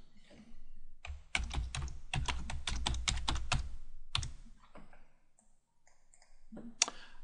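Typing a title on a computer keyboard, a close, quick burst of crisp key clicks, then a pause and a few scattered keystrokes, with no voice.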